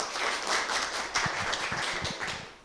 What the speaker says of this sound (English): Let's give an applause.